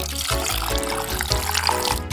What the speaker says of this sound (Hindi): बोतल में पानी भर लेंगे